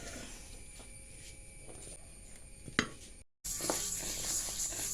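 Split green gram (moong dal) roasting in a pan, a steady low sizzle with faint stirring scrapes and a brief clink, cutting out for a moment before the sizzle returns slightly louder.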